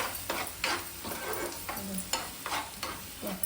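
Chutney ingredients fry in a pan with a steady low sizzle, broken by repeated scraping bursts from stirring at a loose, regular rhythm. It is heard up close, with no voices.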